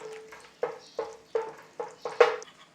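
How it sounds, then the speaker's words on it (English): Hard spices stirred in a pan for Punjabi chicken masala: a rhythmic series of about six scraping strokes of a spoon against the pan, evenly spaced and close, over a faint sizzle. "it's not much of a stir fry on these hard spices"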